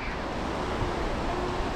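Surf washing onto the beach at Pantai Chendering before the monsoon, a steady, loud broadband roar of breaking waves with wind noise and no voices.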